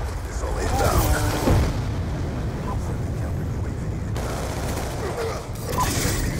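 Explosions from missile strikes in a first-person shooter game, a dense burst of booms and crackling blasts, mid-distance and continuous over a rumbling background.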